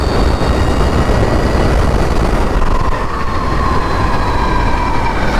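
A powerful dirt bike fitted with street wheels runs at full throttle uphill, giving a loud, dense, sustained engine roar with a high whine rising later on, with no voices.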